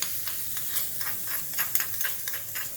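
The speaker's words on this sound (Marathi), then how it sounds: "हे हलवून घ्यायचं आहे आणि गाजरावर टाकायचं आहे" A Marathi carrot salad tempering of hot oil with green chilies, stirred and poured over grated carrot, giving a soft, crackling sizzle with scattered sharp pops and no talking.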